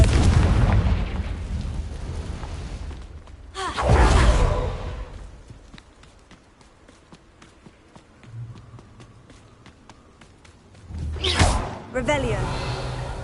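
Confringo spell blasts in Hogwarts Legacy burst out as loud booming explosions with whooshing tails, a big one early and another near the end, separated by quieter stretches with a voice casting spells.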